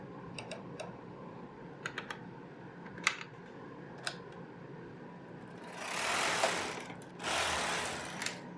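A knitting machine carriage runs back and forth knitting rows on waste yarn for a sweater back, giving two sustained raspy sweeps around six and seven and a half seconds after sparse clicks and ticks over a quiet hum.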